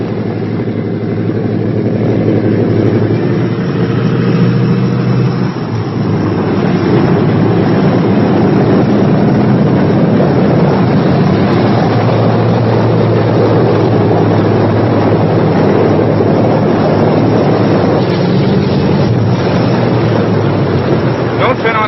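The radial engines of a Boeing B-17 Flying Fortress run on after landing, a loud, close, continuous rumbling drone that stays steady throughout, muffled as if heard from inside the aircraft.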